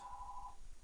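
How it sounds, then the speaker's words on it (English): Electronic ring of a home telephone, a single steady warbling tone lasting about half a second before cutting off, moderately faint over low room rumble. "Ignore that noise. That's my phone."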